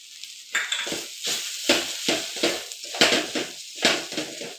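Grated coconut stirred into sautéed onion and tomato in a pan, a series of rhythmic scraping strokes about every half second, close and fairly loud over a light sizzle, with no talk.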